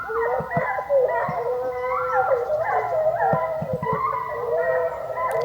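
A pack of hunting hounds bays and howls together without pause during a wild boar hunt, many overlapping voices at middle distance, with faint knocks and rustling underneath.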